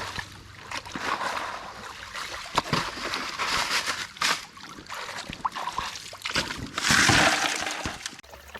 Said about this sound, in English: I just ran a little test pan out of the material I'm putting through the sluice